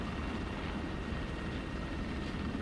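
A helicopter in an Arma military operation, a steady loud rotor and engine drone that continues unbroken throughout.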